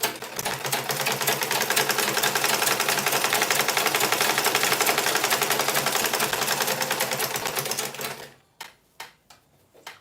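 A sewing machine runs steadily for about eight seconds, stitching rose-design rows, with a dense rapid mechanical chatter, then stops; a few brief clicks and knocks of handling follow.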